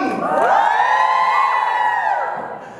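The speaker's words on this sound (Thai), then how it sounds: "ขอเป็นเสียงกรี๊ดแทนได้ไหมครับ" Fans at a Nichkhun fan meeting in Bangkok let out one loud, sustained high-pitched scream that swells and then fades over a few seconds.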